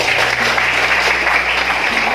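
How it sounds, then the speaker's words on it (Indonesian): Steady clapping from a group in a classroom fills the whole moment, dense and even, with no voices. "Tepuk tangan untuk"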